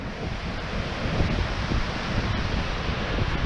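Strong storm gusts of wind roar against the microphone at a bushcraft tarp shelter, a loud, continuous rumbling buffet with no pauses and no voices.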